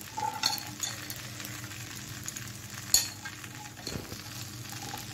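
Fried paneer and green peas tipped into a pan of cooked rice, soft sizzling and stirring scrapes with a couple of sharper knocks, steady and close at low volume, without speech.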